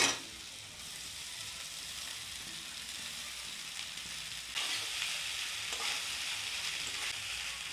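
Cooked rice and fried vegetables with chopped tomato sizzle steadily in a pan as fried rice is made, a continuous close hiss that swells slightly louder partway through.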